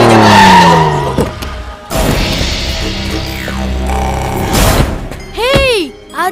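Car driven up in a Tamil movie scene, engine noise and tire squeal rising and falling over several seconds, fairly loud, with music and voices mixed in over it.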